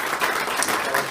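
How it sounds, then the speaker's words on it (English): Applause from a conference audience greeting the event sponsors, a dense continuous patter of many hands held at steady loudness throughout the short burst. "And let's give our sponsors a round of applause,"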